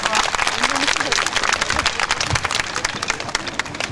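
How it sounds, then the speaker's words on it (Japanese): Loud, dense applause from a large crowd at a taiko drum performance in Rikuzentakata, Iwate, Japan, steady throughout, with a few voices calling out in the mix. "大きなご声援ありがとうございます。"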